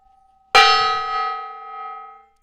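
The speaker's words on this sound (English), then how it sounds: "I'm going to hit that gong." Gong struck once, a sudden loud metallic clang that rings on with a shimmering, slowly fading sustain for nearly two seconds, close and alone.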